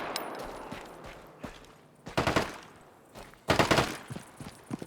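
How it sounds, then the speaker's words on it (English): Gunfire from another player in the video game Deadside, sharp scattered shots followed by two louder rapid bursts, mid-distance and fairly quiet. "Guy over here shooting at me."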